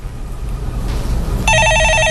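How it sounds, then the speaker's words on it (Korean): A telephone rings on a Korean stock-market call-in broadcast, a bright electronic ring coming in loud and clear after a short stretch of low studio hum. "전화 받아보겠습니다"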